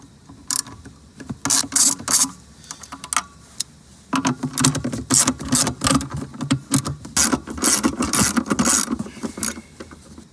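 Ratchet with a 10 millimeter socket loosening bolts on a 2012-2019 Ford Fusion, bursts of rapid close clicking in quick strokes, pausing briefly before a longer run of ratcheting.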